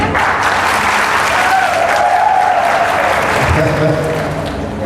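An audience at a religious gathering in Sitapur, Chhattisgarh claps continuously, a dense sustained roar of applause with a voice briefly heard over it.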